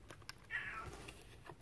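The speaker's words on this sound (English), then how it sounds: "my cat said yes" A pet cat gives a single short meow, fairly faint and brief, over quiet room noise.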